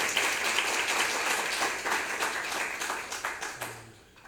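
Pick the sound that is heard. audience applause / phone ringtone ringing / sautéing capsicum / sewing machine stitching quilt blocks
audience applause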